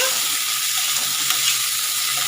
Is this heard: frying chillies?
yes